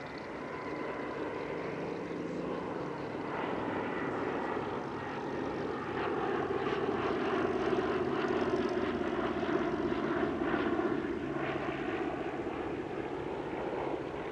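A Douglas Dakota Mark IV, an ex-military piston propeller transport, drones past at an airshow, its moderate engine hum swelling and wavering steadily, somewhat distant and unaccompanied by voices.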